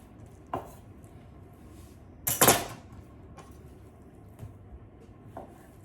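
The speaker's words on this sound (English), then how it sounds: "So I'll just continue chopping this up." Knife chopping beef brisket into chunks on a board, a few sparse thuds with one louder, sharper cut near the middle, otherwise quiet.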